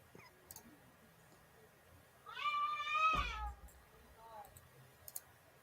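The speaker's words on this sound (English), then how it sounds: "Well, that sounded like a pissed off cat." A cat lets out one loud, drawn-out angry yowl with a wavering pitch, followed by a shorter, fainter cry, against a quiet background with a few soft clicks.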